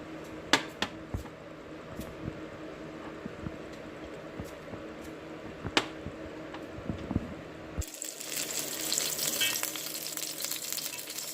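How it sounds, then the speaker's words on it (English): Garlic sauteing in a pan for a Jamaican-style brown stew snapper: a steady close sizzle with scattered clicks of a utensil, swelling into a louder, brighter hiss near the end. "while my garlic is being sauteed"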